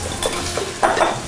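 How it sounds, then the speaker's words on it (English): Onions sizzling in a heavy cast-iron skillet, a brief close hiss with a few light scraping clinks partway through, no talk over it. "Listen to that sizzle"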